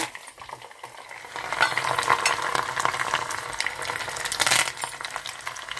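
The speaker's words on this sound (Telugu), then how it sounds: "ఆయిల్ వేడవింది ఇప్పుడు ఆవాలు వెల్లుల్లిపాయలు కరివేపాకు వేసుకుందామండి" Mustard seeds, garlic and curry leaves hit hot groundnut oil for ginger pickle, giving a loud crackling sizzle with popping seeds that builds after the first second and stays dense and close throughout, with no voices.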